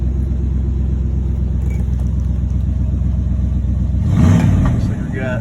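A 1979 Lil Red Express truck with a Thermoquad carburetor idles with a steady, loud engine rumble, then revs up briefly near the end before settling back.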